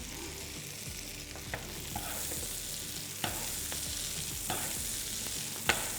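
Rib eye steak frying in a hot pan, a steady close sizzle with a few sharp pops and spatters over about six seconds, no voices.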